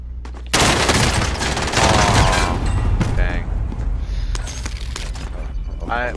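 Gunfire in Call of Duty Warzone, with dense automatic bursts and booming shots over several seconds, some loud and some trailing off, while players talk over the shooting.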